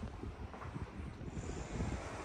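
Steady wind blows across the side balcony of a new east-facing individual house in Poonamallee, a continuous rough rumble buffeting the microphone close up. No one speaks.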